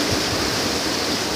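Rainwater pouring out of a gutter onto the ground during a storm in Sun City, Arizona, a loud steady rushing splash that fills the whole moment with no voices.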